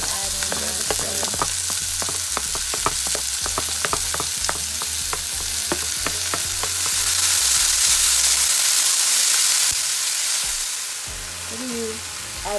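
Onion, pepper and tomato searing in a pan for an egg omelette with sausage, a loud steady sizzle with rapid utensil clicks and scraping that swells into a louder hiss near the end.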